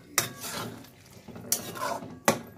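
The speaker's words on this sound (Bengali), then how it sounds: "আমি এটা কুকারে ট্রান্সফার করে দেবো" Radish and pumpkin curry being moved from a kadai into a pressure cooker, with three sharp metallic scrapes and clanks of a spatula against the pot spaced through the moment, softer shuffling and scraping in between.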